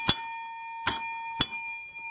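Three short bright bell dings on a slot machine during a casino bonus round, evenly spaced, each with a sustained ringing tone and no talking.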